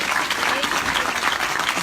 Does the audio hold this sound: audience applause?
yes